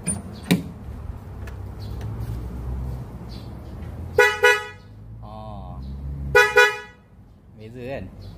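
A newly fitted car horn on a Perodua Viva sounds in two pairs of short, loud, bright honks, separated by quieter pauses, with someone talking faintly in between.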